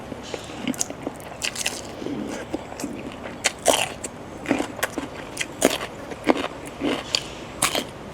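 Crunchy bites and chewing of stir-fried roselle leaves with fresh shrimp, a series of crisp, close crackles at an irregular rhythm with quiet pauses between mouthfuls.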